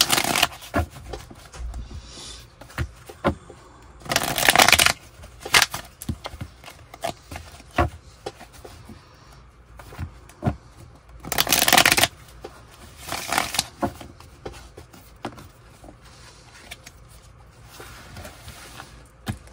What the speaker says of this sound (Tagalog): Balasahin muna po natin mabuti.